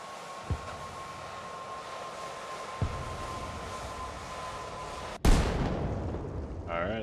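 Mortar shells exploding in Arma Reforger: two faint distant thumps, then a sudden loud close blast with a long rumbling decay, over a steady low background tone.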